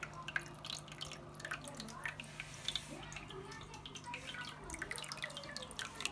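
Water spills back from an aquarium hang-on bag filter, making a soft, continuous trickle with scattered drips. A low motor hum runs steadily beneath it, and the whole sound is fairly quiet.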